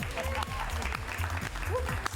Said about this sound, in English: give them a little golf clap